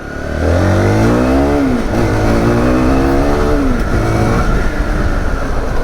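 A Zontes T2 310 motorcycle pulls away and accelerates hard, its engine note rising in loud, close sweeps through the gears with no talk over it.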